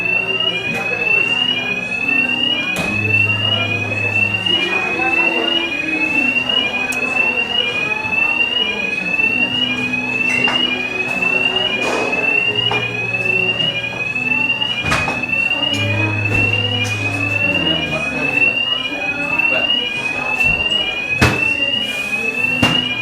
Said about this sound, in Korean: 연기 때문에 아마 경보기가 저기 나오는 것 같아요.